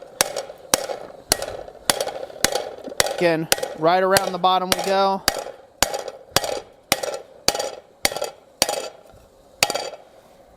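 Sharp, evenly spaced metal strikes ring out as a set hammer works a steel skillet blank to sink the pan, with someone talking briefly in the middle of the blows.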